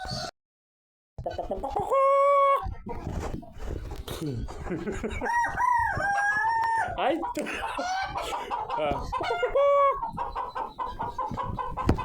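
Chickens clucking with a rooster crowing in a henhouse setting, a loud, dense and continuous chorus of overlapping calls with rising crow-like tones, while someone talks to the birds over them.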